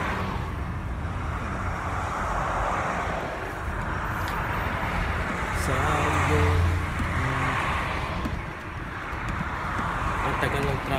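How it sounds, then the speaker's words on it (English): Road traffic hums as a constant wash of car engines and wind, steady and moderately loud, with people talking over it. "Traffic talaga dito ang isa. Traffic na traffic."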